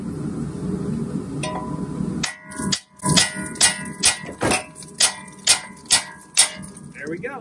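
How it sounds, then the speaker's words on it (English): A series of about ten sharp metallic hammer strikes on Mini Cooper strut and suspension parts, in a steady rhythm, loud and close, after a stretch of low background noise. "Sometimes we get to hit things with a hammer to take them apart."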